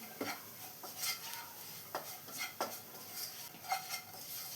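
Spice powders and Kashmiri chilli are stirred in a pan over a low flame for kadala curry. A soft background hiss sits under quiet, evenly spaced clinks and scrapes of a spoon. There is no talk.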